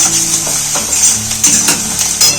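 Onions sizzle in hot oil, a close, steady frying hiss broken by a few light scrapes of a spatula against the pan.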